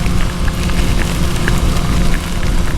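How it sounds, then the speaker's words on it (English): Heavy pouring rain during a flash flood, heard from inside a moving vehicle: a loud, dense, continuous wash with low rumble and scattered drop impacts, no voices. "I mean, it's literally flash flood."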